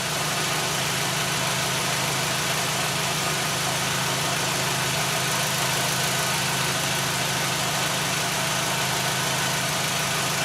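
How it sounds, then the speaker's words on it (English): A 2001 Audi Quattro engine idles in closed loop at a normal speed, giving a steady, even rumble and hiss with a faint low throb that holds unchanged throughout, close by and with no talking. "Idle is, engine speed is fine."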